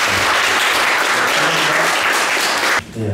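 Warm audience applause welcomes a lecturer at a unification forum on constitutional law, a loud, full burst of clapping from a crowd that stops abruptly near the end.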